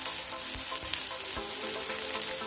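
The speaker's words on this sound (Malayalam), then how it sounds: "കൈപ്പയ്ക്ക ഒന്ന് ഇളക്കി കൊടുക്കാം." Bitter gourd stir-frying in coconut oil in a pan: a steady, close sizzle with a few soft scrapes from the stirring spoon, and no voices.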